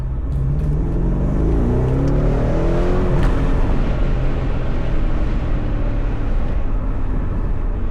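A BMW M550i engine revs hard and climbs through the gears on a back road, rising pitch sweeping up loudly, then a steady roaring drone of speed.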